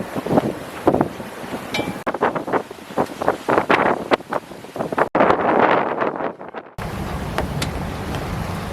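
Strong wind roars across a sailboat under way at about 6.5 knots on a coastal passage along the Italian coast, with loud, gusting buffeting on the microphone and rushing water throughout.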